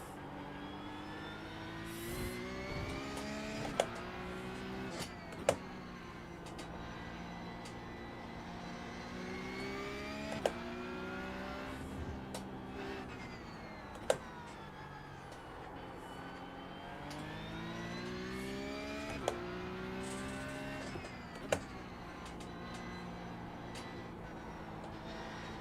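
Race car engine in the iRacing sim, rising and falling through repeated gear changes, with sharp shift spikes every few seconds, loud and continuous.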